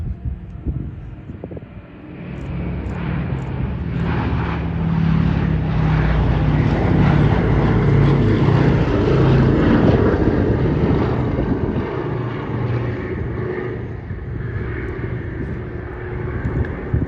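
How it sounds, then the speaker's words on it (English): A Boeing B-17 Flying Fortress, the Sally B, makes a final pass at an airshow at Duxford, its loud piston engines roaring and swelling as it approaches and passes, with wind buffeting the microphone. "we pay tribute with the final pass of this display by Sally B."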